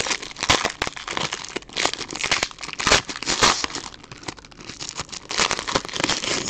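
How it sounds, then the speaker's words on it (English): Safe release painter's tape being torn and peeled across a trading-card top loader, producing continuous close crinkling and tearing with sharp crackles throughout. "So it'll come to you in a 260 with a little safe release painter's tape across the top."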